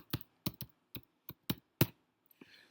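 Keystrokes tapped on a computer keyboard while entering an email address, seven distinct clacking taps at an uneven rhythm, close and fairly loud, ending with a faint rustle.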